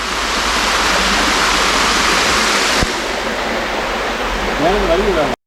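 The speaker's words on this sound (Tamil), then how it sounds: "இந்த பெரிய ஃபால்ஸ்லேயே இவ்வளோ தான் தண்ணி இருக்குது." A large waterfall running low on water gives a steady, loud, broad rush of falling water, heard close and unbroken, with a faint voice-like warble near the end.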